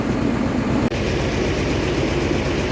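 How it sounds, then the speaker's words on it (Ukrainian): Homemade tractor engine running steadily near a vehicle stuck in mud, a loud, low throbbing drone with a regular pulsing beat and one brief dip. "Зараз ще один тракторець. Це теж саморобний."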